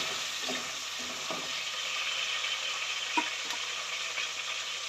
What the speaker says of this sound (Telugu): నెక్స్ట్ ఎర్రగడ్డలు వేద్దాం. వేసి కలిపెడతాం కొంచెం అటు ఇటు.